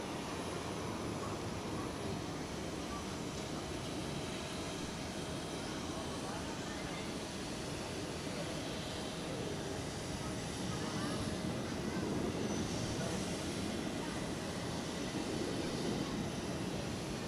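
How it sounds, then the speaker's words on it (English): A Helvetic jet airliner departing Zurich for Bologna produces a continuous engine roar that swells slightly toward the end, with someone talking over it at times. "It is that Helvetic to Bologna departure."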